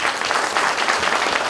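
Loud, dense applause from an audience at a small Easter cultural event in a municipal culture centre in Lubawka, steady clapping filling the whole moment without a break.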